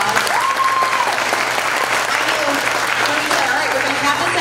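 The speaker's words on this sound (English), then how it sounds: "Can we give him a nice round of applause?" An audience at a regional pageant competition applauds loudly and continuously, a thick wash of clapping hands with a few voices and cheers mixed in throughout.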